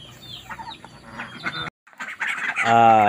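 Ducklings on a small farm, chirping and peeping in bursts with a brief silent gap, then a loud, sustained call near the end.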